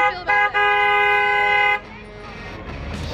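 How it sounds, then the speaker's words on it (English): A car horn honks loudly nearby: a brief toot, then a sustained blast of more than a second, followed by background noise and a voice. "No, TJ honked the horn."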